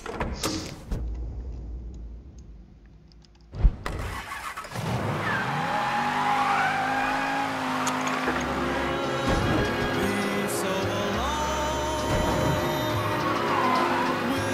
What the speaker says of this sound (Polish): Tym samochodzikiem to się jedzie.